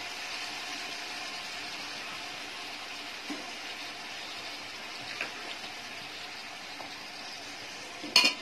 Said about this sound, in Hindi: ये सारी चीजें डाल के इसको अच्छे से भून लेना है।